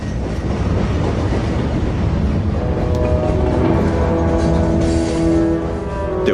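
A train rolls along rails with a steady rumble and rhythmic clatter, and a faint squeal of wheels rises near the end, loud and continuous throughout.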